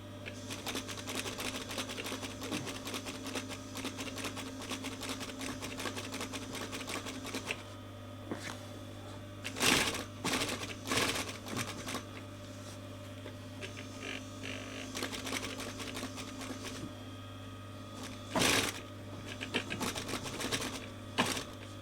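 A sewing machine stitches curved insert panels for a VW T5 Transporter front seat, a steady rapid mechanical chatter with several short pauses and louder bursts as the fabric is guided through.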